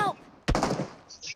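A single sharp gunshot cracks out in the BGMI mobile battle-royale game, followed by a brief decaying tail and a short electronic chirp, with a faint voice just before.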